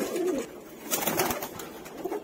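A pair of Madrasi pigeons, including a black bhavra male, coos in low, rolling bursts that come and go in a few soft phrases, close by against a light background hiss.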